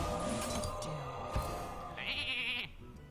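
A sheep bleats in the Hearthstone video game after a polymorph spell. A wavering, mid-pitched synthesized bleat is followed by a brighter high tone. The sound is fairly faint and plays alone.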